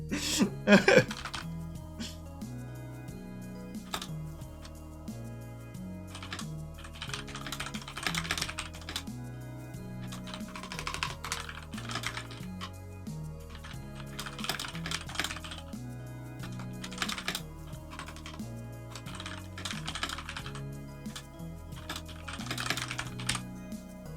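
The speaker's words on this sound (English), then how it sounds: "It's me typing." Steady typing on a computer keyboard, quick irregular clusters of key clicks coming in bursts with short pauses, close and fairly quiet, with no talking.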